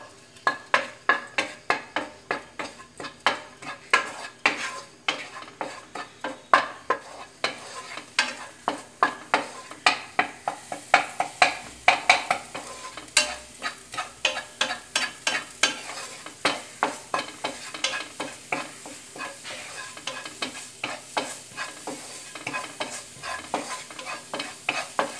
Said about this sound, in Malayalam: ഇതൊന്ന് നല്ലപോലെ സോട്ട് ചെയ്തെടുക്കുക.